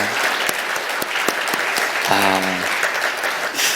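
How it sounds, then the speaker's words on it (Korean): A church congregation at a Sunday service of the Air Force Central Church applauds in praise, with a sustained wash of many hands and a few sharper claps standing out. A brief tonal sound and some voices rise within the clapping. "우리 하나님께 영광의 박수 한번 올리시죠"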